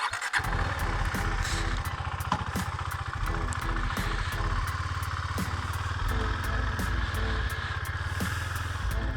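A motorcycle rolls along at slow, steady speed, its engine idling low with an even, unbroken putter right up close throughout; no speech.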